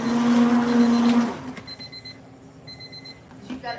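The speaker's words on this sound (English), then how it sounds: "our little timer went off." A small kitchen timer going off while goat's milk soap is being made, giving a loud steady electronic ring that stops after about a second, followed by fainter intermittent beeps in a quiet room.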